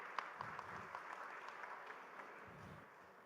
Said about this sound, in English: let's start with a big round of applause